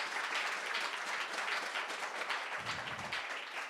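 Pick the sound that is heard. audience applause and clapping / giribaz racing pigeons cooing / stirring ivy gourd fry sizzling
audience applause and clapping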